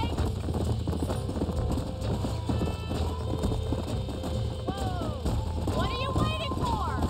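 Horse hooves clip-clopping in Red Dead Redemption, a steady run of hoofbeats with a whinny near the end, heard under game music and effects.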